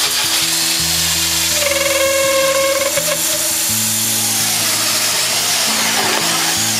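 Power drill boring through Kaizen foam organizer material down into a wood block beneath, a steady close whirring grind with rising and falling pitch over several seconds, no talking.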